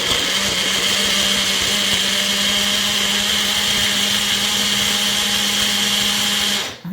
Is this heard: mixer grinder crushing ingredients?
yes